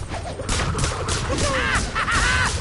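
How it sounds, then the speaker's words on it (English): Cannon fire booms in the video game Skylanders Imaginators as a burst of loud, rapid blasts, mixed with game sound effects and chirpy tones, with no voice over the shots. "Oh, I love the sound of cannon fire!"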